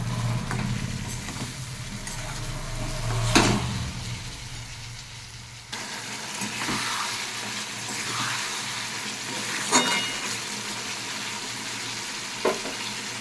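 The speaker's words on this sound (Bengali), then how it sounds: "মশলাটাকে ভালো করে কষিয়ে নেবো আমি এবার।" A spice paste (masala) with salt and sugar fries in a pan, giving off a continuous low sizzle broken by a few sharp scrapes of stirring, with no talk.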